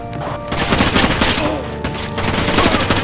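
Gunfire in the tactical shooter Rainbow Six 3: Raven Shield, loud continuous rapid automatic bursts with a faint voice underneath.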